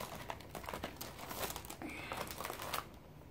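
Oreo Spring Edition cookie packaging crinkles and rustles steadily throughout, fairly close and moderately loud, with scattered sharper crackles and no talking.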